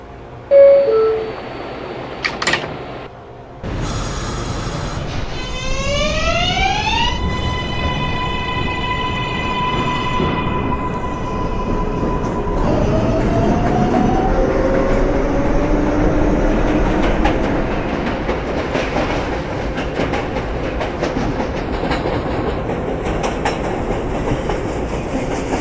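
A New York IRT 7 local subway car pulls out, its motors whining upward in rising tones, then running with steady wheel rumble and clatter on the rails, loud and close, no talk.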